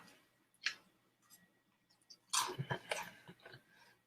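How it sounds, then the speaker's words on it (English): Crunchy nacho cheese Doritos are chewed up close, with bursts of crisp crunching after a quiet pause, layered on a bacon burger comfort-food dish. "Doritos providing a nice crunch."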